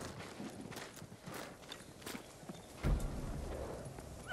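Horse hooves clip-clopping at a slow walk on hard ground in the video game Ghost of Tsushima, followed by a heavier thud near the end.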